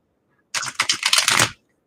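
A deck of playing cards riffled in a fancy shuffle, one dense burst of rapid crisp flutters lasting about a second after a silent pause, close to the microphone with no talking.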